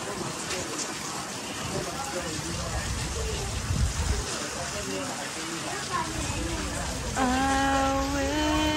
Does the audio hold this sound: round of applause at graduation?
no